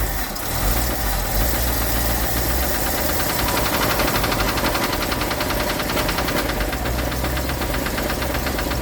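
Engine of a 1965 Ford Thunderbird idling in a rebuild shop, a steady, loud, close rumble with a knocking mechanical vibration running unbroken throughout, no voices.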